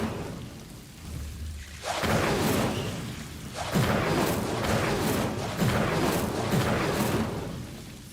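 An Incendio fire spell cast again and again in Hogwarts Legacy, each cast a loud whooshing roar of flame that swells and lingers, coming in several bursts back to back.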